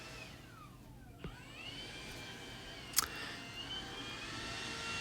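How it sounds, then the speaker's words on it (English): A vacuum cleaner runs somewhere nearby, a faint steady whine whose pitch slides upward, with a couple of soft knocks and no talking. "I don't know what someone's doing with a vacuum right now, but this is crazy."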